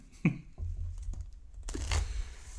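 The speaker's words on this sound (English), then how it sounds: "I will just stop shuffling now" Playing cards are shuffled during a tabletop game playthrough of Vegetable Stock, with soft papery riffles and crackles coming in two short bursts close to the listener.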